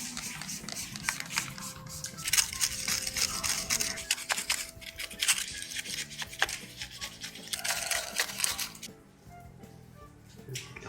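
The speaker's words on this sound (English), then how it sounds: "we will continue to scrub this off until it's clean" A dirty Yamaha XTZ125 motorcycle part is scrubbed with a brush and kerosene, giving close, vigorous bristly scraping strokes in uneven bursts that fade to quieter rubbing near the end.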